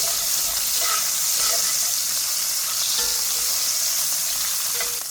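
Bacon frying in a pan gives a steady, close hiss and crackle with a few brief pops, running unbroken through the whole stretch.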